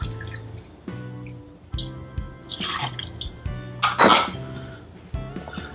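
White rum poured into a cocktail jigger or glass, with soft liquid trickles and drips mixed with several light clinks of glassware and bar tools, close up and quiet, no talk.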